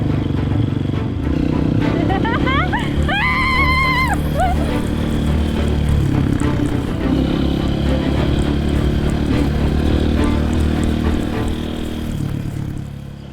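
A dirt bike putters around an open field at low speed, about 20 km/h, its engine droning steadily and fairly close throughout, with a brief higher whine near the start.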